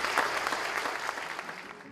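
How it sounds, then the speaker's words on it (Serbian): An audience applauds an introduced guest at a village history gathering in Vojka, with steady, dense clapping throughout the short stretch and no talk over it. "molim jedan aplauz za njega"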